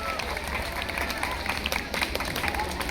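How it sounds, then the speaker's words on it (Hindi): Schoolchildren in a hall clap together in a steady burst of applause, with a crowd murmur and voices talking over it. "इतना अच्छे तरीके से ताली बजाएं बच्चों"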